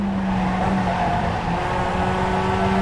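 Global MX5 Cup race car in the iRacing simulator at Circuit of the Americas, engine droning steadily and loud with tire noise, holding a continuous tone throughout.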